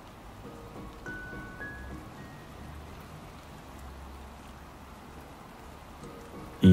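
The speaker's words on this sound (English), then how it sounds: "Why are you in the rain?" Soft, steady rainfall in the video game Love and Deepspace, a gentle patter of drops at low level throughout, ending in a sudden louder burst.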